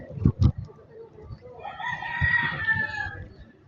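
A rooster lets out one clear, drawn-out crow at moderate distance, following a couple of dull knocks, with faint background noise and no talking.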